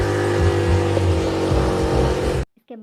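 Motorbike engine revving and pulling away, a loud close roar with surging throttle bursts that cuts off abruptly into brief quiet.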